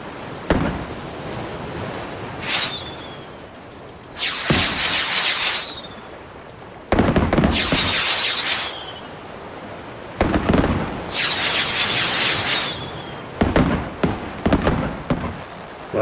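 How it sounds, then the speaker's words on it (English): Fireworks in the survival video game Raft go off in several bursts, each a loud crackling, hissing shower, with quieter stretches of ocean-like ambience between them and no talking. "Yeah, that's basically the fireworks."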